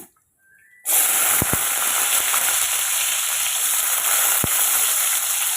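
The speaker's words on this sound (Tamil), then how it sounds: "எண்ணெய் சூடானதுமே கடுகு சேர்த்துக்குங்க கடுகு சேர்த்துட்டு கடுகு பொரிஞ்சதும் வெங்காயம் சேர்த்துக்குங்க" Mustard seeds spluttering in hot oil for a Tamil tomato curry: after a brief quiet moment, a loud, dense frying hiss bursts in and holds steady, broken by a few sharp pops and crackles, with no voices.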